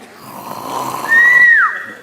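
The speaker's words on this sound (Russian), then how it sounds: "Храпит." A person snores in a comedic fairy-tale stage sketch, one drawn-out rasping inhale swelling to a loud whistling peak and then trailing off, close and alone.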